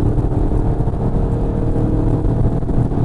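The 2.0-litre-class diesel engine of an Audi Q3 35 TDI revs up under acceleration in manual mode, a steady loud drone heard from inside the cabin with no talking.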